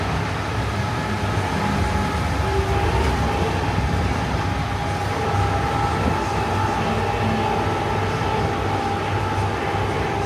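A Disneyland parking tram rolls along from the Mickey & Friends structure, its steady mechanical rumble and a faint sustained whine carrying continuously, loud and close from on board.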